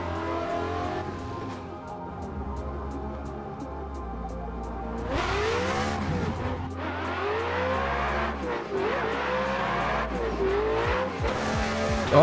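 A race car drifts in the game Assetto Corsa, its engine revving and droning loudly while tires squeal in long, wavering screeches through repeated slides, with no talking.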